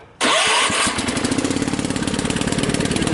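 A Husky 600 motorcycle engine fires up on choke, catching abruptly and roaring loudly at first before settling into a steady, rapid, pulsing idle, with no voices.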